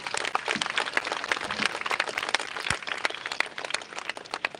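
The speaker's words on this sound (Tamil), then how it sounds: "தமிழகத்து பெயரை நிமிர்த்தி நின்ற அந்த மாபெரும் இசைக்கலைஞருக்கு ஒரு கைத்தட்டல் கொடுங்க" An audience claps for a music director at a live event, giving dense, steady applause of many hands close by, moderately loud throughout.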